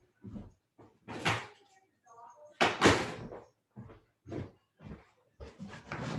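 A house door is opened to let a dog out, with a couple of loud thuds and rattles between stretches of quiet, and a person speaks in the room.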